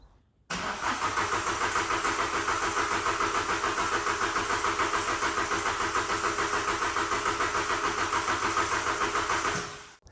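A Ford SportKA engine cranks briefly, then catches and runs at a steady, slightly pulsing idle close by for several seconds before cutting off, with no voices.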